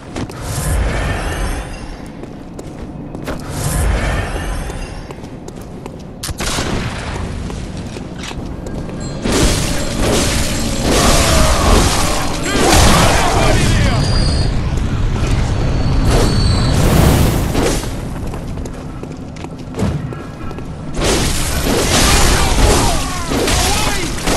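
Gunshots from Bloodborne boom loudly again and again over dense, continuous combat noise, with heavy blasts stacking up across the whole stretch.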